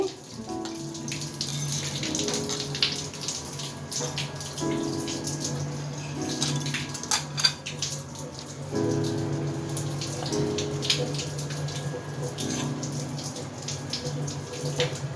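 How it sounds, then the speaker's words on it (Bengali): Pots and pans are washed under running tap water in a home kitchen, with a continuous splashing stream broken by clanks and knocks of metal cookware close by, and no talk. "সাথে কিন্তু আমি হাড়ি পাতিলগুলো পরিষ্কার করে ধুয়ে নিয়েছি"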